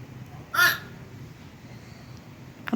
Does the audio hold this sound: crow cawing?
yes